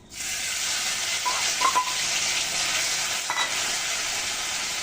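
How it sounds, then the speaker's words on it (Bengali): Radhuni seeds and a hilsa fish tail sizzle in hot tempering oil for a thin hilsa curry, giving a steady, close, loud hiss with a few brief crackling pops and no talking. "তো আমি দিয়ে দিচ্ছি ফোড়নে রাঁধুনি। আর এই যে ইলিশ মাছের একটা লেজ আমি বেছে রেখেছিলাম কাটা,"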